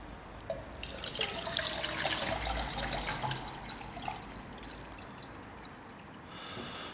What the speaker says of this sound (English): So let's add some water and fire it up and see how it does.